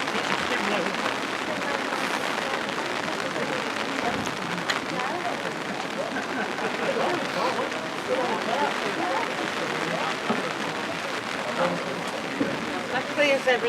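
Heavy rain falls steadily on surfaces at an outdoor competition, a dense continuous hiss lasting throughout, with voices talking faintly underneath.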